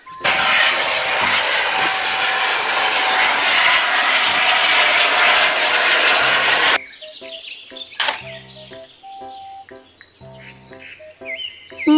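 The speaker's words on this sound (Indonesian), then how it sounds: "Helikopter." A toy helicopter makes a loud, steady whirring engine drone for several seconds, then stops, followed by scattered electronic beeps and chirps.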